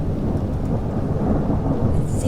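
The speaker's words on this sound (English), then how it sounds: "sometimes filled with a thunderstorm" A thunderstorm rumbles with low, rolling thunder over steady rain, loud and continuous with no voices.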